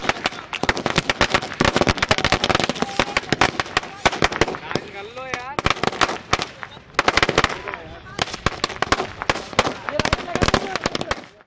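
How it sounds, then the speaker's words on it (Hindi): Fireworks and firecrackers set off at a celebration marking completion of the Kesarbagh bridge, a dense run of sharp crackling bangs and rapid bursts throughout, with crowd voices underneath. "लोगों ने केसरबाग ब्रिज के पूरे होने का जश्न आतिशबाजी कर मनाया।"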